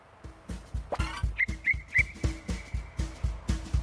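A man on a rural eco-friendly farm blows a whistle in a few short, high tones over a steady rhythmic thumping or swishing beat, close and moderately loud, with no talking.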